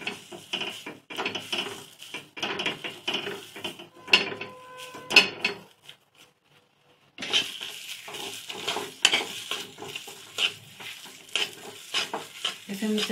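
Mawa (khoya) being stirred and roasted in a kadhai on a gas stove, with repeated scraping stir strokes and a soft sizzle, a brief lull in the middle, then steady stirring again, close and alone.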